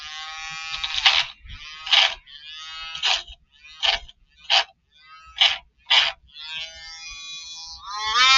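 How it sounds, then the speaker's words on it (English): A Dremel rotary tool grinds small pieces from a Telecaster guitar kit body, heard as a series of short, close, buzzing bursts, about eight of them, separated by brief pauses. "And I'm going to do the same thing with my Dremel."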